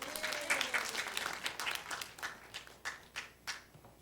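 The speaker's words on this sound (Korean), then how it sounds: "박수 한번 쳐주세요." A church congregation claps at a Korean worship service, the applause starting as a soft, scattered patter and thinning into a few distinct, fading hand claps at a moderate distance.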